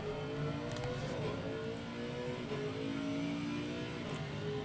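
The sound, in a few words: Lexus race car accelerating at Spa in Assetto Corsa Competizione video game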